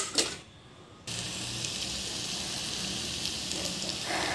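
Vegetables with coriander and turmeric sizzle steadily in hot oil in a pan, a continuous close hiss that starts abruptly after a brief quiet moment and holds at an even level throughout.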